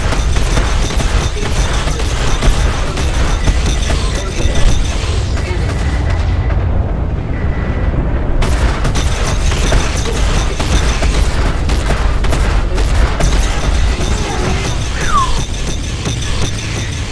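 Loud, continuous barrage of heavy ballistic cannon fire from an M50 in the video game Star Citizen, with booming rumble and overlapping blasts, sustained throughout with a brief dip midway.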